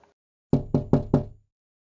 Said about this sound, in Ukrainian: хтось стукає до нас у віконечко